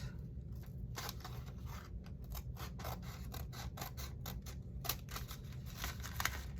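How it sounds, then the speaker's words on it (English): Scissors snip through paper while an altered envelope pocket is crafted, a quiet series of crisp, irregular cuts and rustles close by, with no talking. "let me cut this here"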